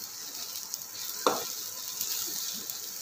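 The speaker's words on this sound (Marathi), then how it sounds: "पण असा परतून घेणार आहे त्यामध्ये." Sandge dumplings and peanuts sautéing in a pan with a little asafoetida, a steady soft sizzle running throughout with a brief sharper pop of stirring near the middle; no talking.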